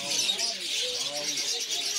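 Lovebirds in a small pet shop give soft, low cooing calls with faint chirps. A voice talks over them throughout.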